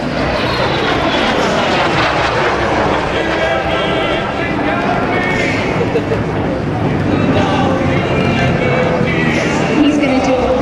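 A Lockheed T-33 jet, the Vintage Thunderbird, roars past at an airshow, a loud, sustained, shifting engine sound for the whole stretch, with an announcer's voice and crowd noise over it.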